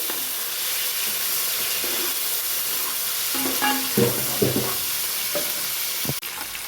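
Golden-brown onions sizzle steadily in a pan for fish curry, a constant close frying hiss with a few stirring scrapes and knocks near the end.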